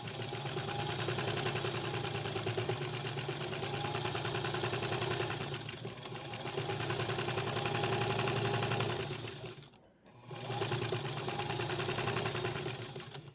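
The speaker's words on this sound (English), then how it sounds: "now I need to sew a 1/4 inch all the way around to hold this down" A home sewing machine stitches a quarter-inch seam around the edge of a scrappy quilted tree skirt, running as a steady, close mechanical hum that pauses briefly twice before carrying on.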